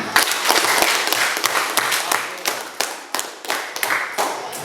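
Students in an Indonesian primary school classroom clap together in a steady round of applause with sharp individual claps, fairly close and loud, no talking over it.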